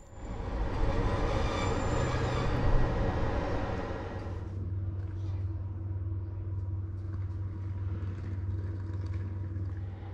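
A Romanian CFR sleeper train rolls to a halt at a station for a locomotive change, a loud rumble with a faint squeal fading into a steady low idling hum.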